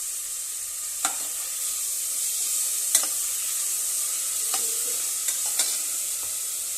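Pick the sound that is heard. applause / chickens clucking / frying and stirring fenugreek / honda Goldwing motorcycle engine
frying and stirring fenugreek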